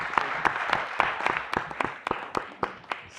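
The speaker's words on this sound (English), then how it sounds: "a round of applause for our" A small group applauding at a public board meeting, with sparse, uneven claps that sound thin and somewhat distant, each one standing out sharply against a quiet room.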